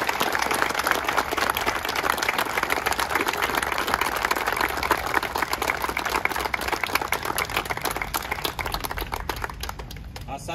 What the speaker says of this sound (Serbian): čestitka našim maturantima koji su zaslužili još jedan ogroman aplauz